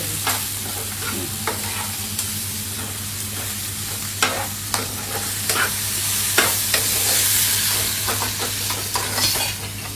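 River clam masala sizzling in a pan after a little water is added, a loud steady fry with a low hum underneath and intermittent sharp spatula scrapes and taps every second or so.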